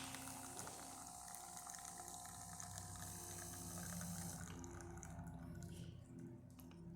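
A De'Longhi Dinamica espresso machine pulls a shot, its pump humming faintly under a soft trickle of liquid, steady throughout with a slight shift in tone near the end.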